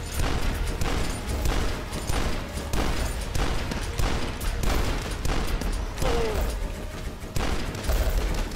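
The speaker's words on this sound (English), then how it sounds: "they're shooting each other." Enemies trade rapid gunfire with each other in the retro shooter Dusk, a sustained barrage of sharp repeated shots and bursts at fairly even intervals, loud and continuous with little talk.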